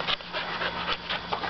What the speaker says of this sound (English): Okay, so who we have here, oops, is Luke, our little cattle dog puppy.